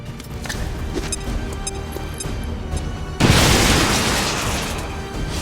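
A grenade detonates in the XCOM 2: War of the Chosen video game, a sudden loud broadband boom that cuts in over quieter game ambience and then rumbles and slowly fades.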